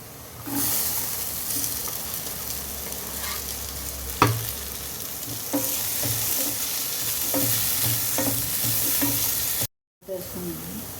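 Onion pieces and potatoes frying in a pan for sago upma, a continuous close sizzle with a sharp utensil knock and intermittent stirring scrapes, then a brief cut to silence before the frying resumes.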